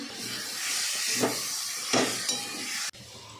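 Vegetables with spring onion, salt and turmeric sizzle and hiss steadily in a pan, close and continuous, with a few louder bursts of stirring and scraping before the sound cuts off sharply.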